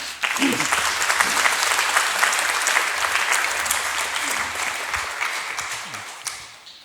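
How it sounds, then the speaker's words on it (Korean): Steady, loud applause from a sizable church congregation fills the whole stretch, thinning slightly toward the end. "우리 박수로 권영수 선교사님 모시겠습니다."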